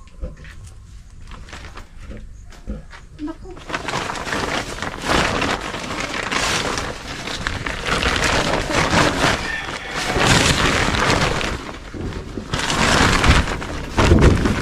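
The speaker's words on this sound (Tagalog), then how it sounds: "Nabutan pa ng ulan sa bandang huli." Steady rain falls around a parked Toyota Fortuner, a broad wash of noise that swells louder after the first few seconds and keeps surging in waves with no speech.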